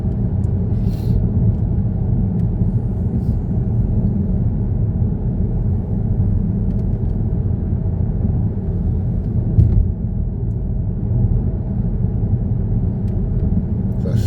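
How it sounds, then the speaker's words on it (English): An automatic car drives on a wet road between Grasmere and Keswick, heard from inside as a steady low engine and road rumble with faint tyre hiss, unbroken for the whole stretch. "I'm not changing gear because I'm in the Mrs. DC's car, which is auto"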